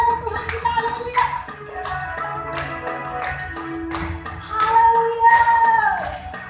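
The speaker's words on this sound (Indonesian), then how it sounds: "Mari kita tepuk tangan bagi Tuhan kita." Church congregation clapping hands during a Sunday worship service, rhythmic group claps landing in time with amplified music and singing voices.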